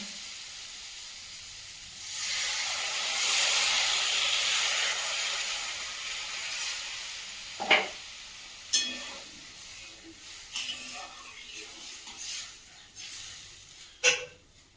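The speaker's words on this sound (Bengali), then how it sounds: "মশলাটা ভাজা হয়ে গেছে, এবার এটা জল দিয়ে দেবো।" A burst of loud hissing steam as water hits frying spice paste in a hot pan, settling into softer sizzling with occasional sharp clinks of utensils.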